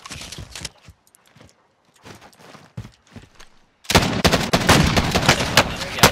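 Sniper rifle fire in Call of Duty Warzone trios: a few scattered sharp shots over quieter stretches, then a dense, loud run of rapid gunfire and impacts in the last two seconds.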